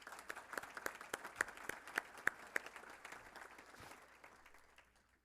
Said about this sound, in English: if you could give both a round of applause